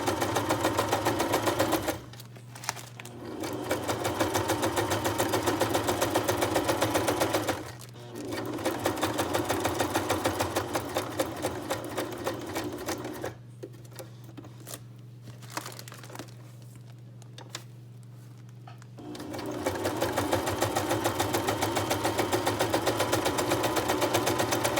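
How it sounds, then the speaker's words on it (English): Sewing machine stitching a mixed media junk journal storage pouch, a fast steady mechanical chatter in long runs with brief pauses, one longer break midway while the work is turned, then stitching resumes, close and alone without talk. "Okay, I'm just going to turn it and sew again."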